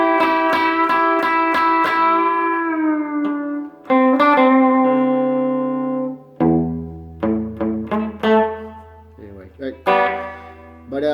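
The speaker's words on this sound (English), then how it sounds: "so that's the bridge humbucker," Clean electric guitar, a Westone Spectrum LX on its bridge humbucker, playing plucked notes and ringing chords, bright and sustained, with a few pauses between phrases and no voices.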